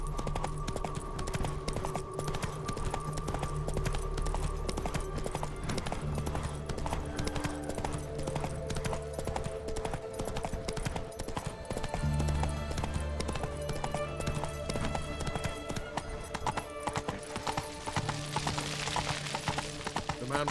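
Roach, Geralt's horse in The Witcher 3, gallops with steady clip-clopping hoofbeats under a continuous music and ambience bed, with no one talking.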